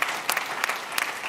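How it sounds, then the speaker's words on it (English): Audience applause at a Generation Unlimited South Africa launch event, a short, brisk burst of many hands clapping, close and steady. "A round of applause, please."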